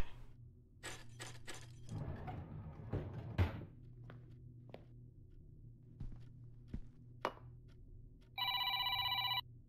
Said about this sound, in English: Honey! Get the phone!